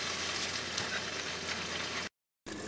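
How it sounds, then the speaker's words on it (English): Corned beef stew simmering in a pot gives a steady, even bubbling hiss, then cuts to a short silent gap before resuming. "So I'm going to stir, lower the heat, then let it boil for about 10 minutes."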